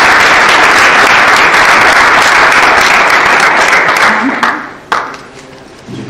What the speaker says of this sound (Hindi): जरा भरपूर तालियां।